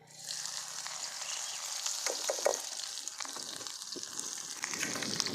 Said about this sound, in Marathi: कढई पण चुलीवर ठेवून घेऊ थोडंसं अगोदर तेल टाकायचं आहे आपल्याला चांगले परतून घ्यायचे तेलामध्ये